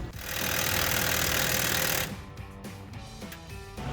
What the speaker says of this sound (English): Use the impact one more time with the 21.